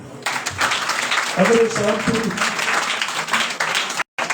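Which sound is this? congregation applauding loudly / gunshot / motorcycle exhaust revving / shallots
congregation applauding loudly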